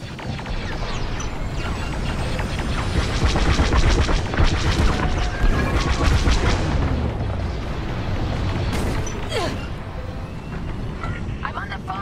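In the space-combat game Star Wars Squadrons, incoming weapons fire pounds a starfighter with a loud, continuous barrage of booming blasts and rumbling impacts, while sharper zaps streak across the mix.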